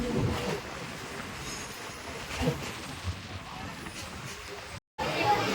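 The Saptagiri Express stands at platform 1 of a station between Chennai and Tirupati, giving a low rumbling rail noise mixed with steady crowd babble and a brief dropout near the end.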